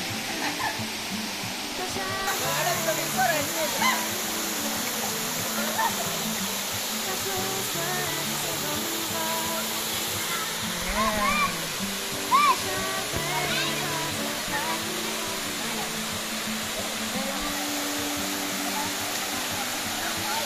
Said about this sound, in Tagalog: Ito po yung Pinay Waterfalls